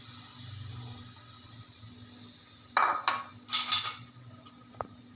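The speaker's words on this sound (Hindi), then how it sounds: "ये मैं सब कुछ मिक्स कर दूंगी।" Capsicum, cabbage and chicken are tossed together in a pan for spring roll filling, with a few quick clattering stirs and clinks of utensil on metal over a quiet background; no speech.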